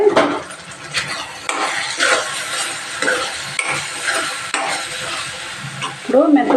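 Dry fish and methi (fenugreek leaf) curry is stirred and fried in a pan, with a steady close sizzle under repeated scraping strokes of a utensil against the metal.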